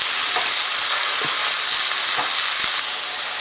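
Grated carrot is dropped into hot coconut oil with popping mustard seeds for a green peas and carrot thoran, producing a loud, steady, close sizzle broken by a few soft stirring knocks, with no talking.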